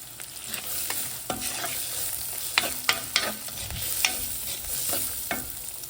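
Onions and asafoetida fry in a pan for banana stem kootu, a steady close sizzle broken by repeated scraping stirs of a spoon against the pan.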